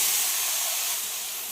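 Jujube berries sizzle in hot mustard oil with five-spice and a dried red chilli, a loud, steady, unbroken hiss that fades slightly toward the end, with no voices.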